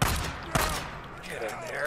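Gunfire in the open-world zombie survival game Days Gone, a close burst of shots at the start followed by one sharp report, with a tense voice reacting over the noise.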